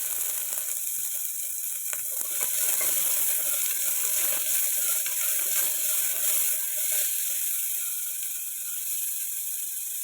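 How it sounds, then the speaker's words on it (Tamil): Cinnamon, cloves, bay leaf and curry leaves frying in hot oil for a mutton bone soup, giving a steady, dense crackling sizzle with fine rapid pops throughout, close and continuous with no talking. "பட்டை, லவங்கம், பிரிஞ்சி இலை, கருவேப்பிலை சேர்த்துக்கலாம். பொரியட்டும்."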